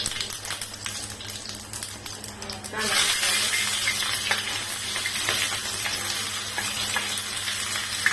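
Cumin seeds tossed into hot oil for spicy pithla, a loud broadband sizzle that jumps up sharply a few seconds in and holds steady, with faint background hum beneath.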